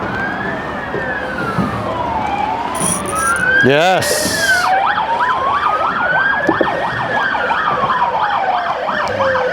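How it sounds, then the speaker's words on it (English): An ambulance siren wails and then switches to a fast yelp as it passes near a bridge, loud and sustained over traffic noise, while someone speaks briefly. "ambulance coming past"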